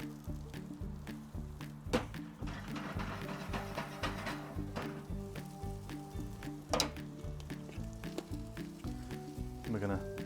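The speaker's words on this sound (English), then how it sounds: "A little bit more oil, and then we're going to go in, with our potatoes." Potatoes frying in oil on a Kamado Joe Classic 2 grill give a steady close crackle and sizzle with scattered pops and a few scrapes, while a voice talks over it throughout.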